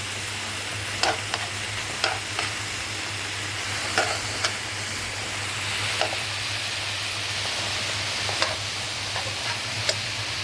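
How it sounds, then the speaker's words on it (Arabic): Tomato sauce with a spoonful of sugar stirred in a frying pan while cooking moussaka, giving a soft continuous sizzle with spoon scrapes and light clicks every second or so. A steady low hum runs underneath, and no one speaks. "نقلب"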